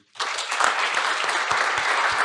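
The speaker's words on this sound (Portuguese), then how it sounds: "eu queria pedir uma salva de palmas para o Wilson" An audience at an engineering conference session breaks into a round of applause for Wilson, dense, even clapping that starts abruptly and holds steady.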